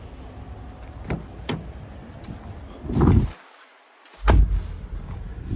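Someone gets into the driver's seat of a 2023 Nissan Murano SV Midnight Edition, with a few faint clicks, then two solid thumps of the car door closing, separated by a brief hush.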